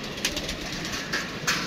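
Pigeons coo on a rooftop, a few soft, throaty calls repeating close by against a steady background hiss, with one brief rustle.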